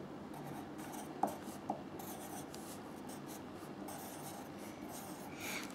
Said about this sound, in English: Here's where you write the numbers for 7.